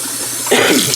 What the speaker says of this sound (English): I made my hot water way too hot because I let that run way too long.